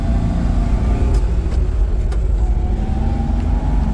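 A car fitted with a motorcycle carburetor drives along, its engine a steady loud low rumble with slight rises in pitch as it pulls through the gears, heard from inside.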